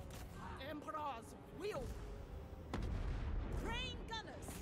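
Cannons fire in a Total War: Warhammer 3 battle, with a sharp booming shot among rumbling battle noise and game voice lines, while someone talks over it.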